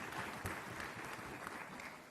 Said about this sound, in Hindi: एक बार ताली बजाओ 12 अगस्त की हरियाली।